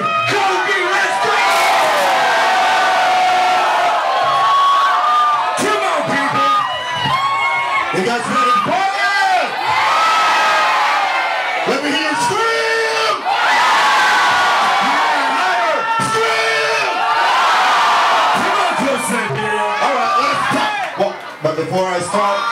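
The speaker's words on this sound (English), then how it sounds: "let's give it up for my boy, DJ Kobe, let's go" A party crowd greets resident DJ Kobe with loud whoops, shouts and cheers that swell and dip continuously for over twenty seconds, voices rising over one another close by.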